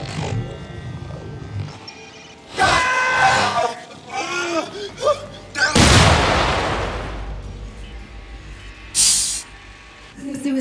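In the Syndicate video game, a suicide application detonates during breach training: a sudden loud, broad blast with a long hissing decay, among earlier bursts, whooshes and gunfire-like effects, with intermittent synthetic sounds and a later short hiss.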